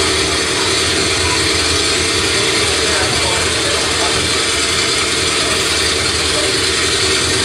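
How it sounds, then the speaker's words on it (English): A vintage aircraft engine at Old Rhinebeck Aerodrome runs loud and close, a continuous mechanical drone with rattling texture and no breaks. "And I was right behind the engine."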